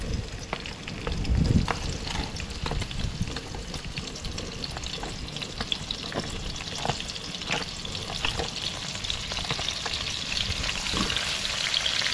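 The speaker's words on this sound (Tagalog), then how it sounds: "Lagay natin sibuyas natin." Onions sautéing in hot oil in a pan, a steady close sizzle and crackle with occasional stirring scrapes throughout.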